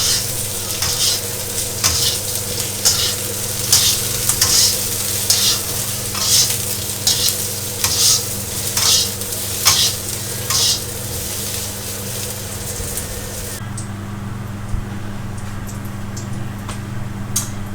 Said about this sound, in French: Pendant que les aubergines cuisent